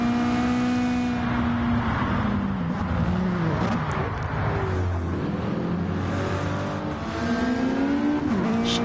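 Race cars in a PS4 racing game, including the number 69 car running in a draft, engines droning loudly with rising and falling pitch as they shift and pass, sustained throughout without speech.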